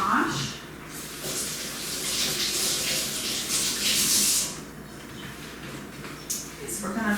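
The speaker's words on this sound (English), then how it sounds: "we've got a few mushrooms that I'm going to go ahead and wash" Mushrooms rinsed under a running kitchen tap, a steady broad hiss of flowing water that swells louder midway and then eases off, close by, with a voice talking over it.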